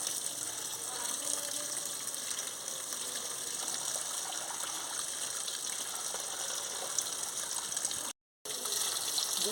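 Cabbage is rinsed under running tap water, producing a continuous close gushing splash with small irregular sloshes as the leaves are handled, steady throughout with one brief dropout.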